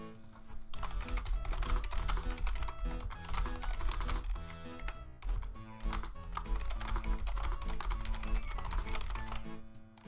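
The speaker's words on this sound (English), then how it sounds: "You can probably hear me typing really loud." Fast, loud typing on a computer keyboard sitting right beside the microphone, a dense clatter of keystrokes running steadily for about ten seconds with brief pauses and no talking.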